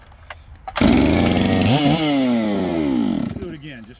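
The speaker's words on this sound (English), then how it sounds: "two of these saws fire right up here" A chainsaw, one of several returned saws, fires up around the one-second mark and runs loud and close at a steady roar with a couple of brief throttle changes, then cuts off near the end. A voice speaks at the very start.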